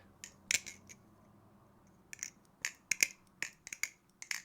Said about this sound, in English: yeah, you can kind of hear like a soft clicking.